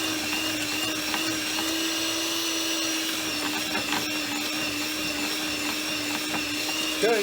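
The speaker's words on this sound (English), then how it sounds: "it with an electric whisk for 4 minutes until light and fluffy" Electric hand whisk beating sugar cookie dough in a bowl, a steady close whirring motor hum running continuously without pause.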